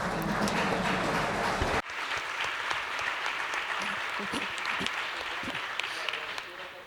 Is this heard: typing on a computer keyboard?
no